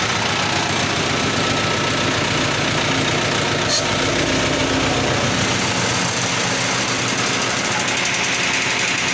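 A Yanmar tractor engine runs steadily under a load test, a loud continuous mechanical drone with a rough knocking, hammering pulse throughout and a brief higher clank near the middle.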